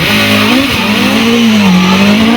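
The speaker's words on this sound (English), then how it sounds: "It's a good launch of the 4-litre Gould Judd V8, and Chris is really on it" A hillclimb race car with a 4-litre Gould Judd V8 launches at Loton Park, its engine roaring loud and close as a steady, rising drone throughout.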